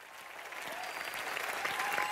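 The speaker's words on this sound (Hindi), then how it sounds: "तालियां." A studio audience at an entertainment show breaks into applause, the clapping swelling steadily and staying fairly soft throughout.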